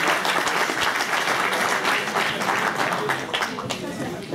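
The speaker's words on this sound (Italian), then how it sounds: "Bravo, applauso per tutti, eh!" An audience at an Italian political candidates' event applauds with loud, dense, continuous clapping, with voices faintly mixed in.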